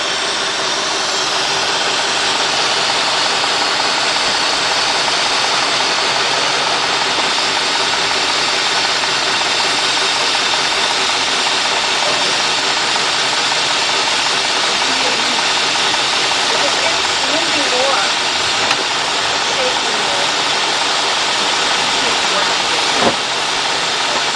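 A 2003 Cadillac Deville with a 4.6 engine running rough with a surging idle, heard as a steady loud hiss and engine drone close to the microphone, with a faint click near the end and no speech.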